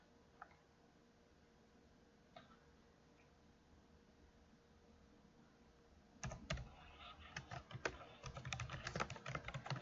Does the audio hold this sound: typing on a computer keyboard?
yes